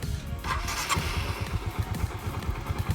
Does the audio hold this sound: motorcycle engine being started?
yes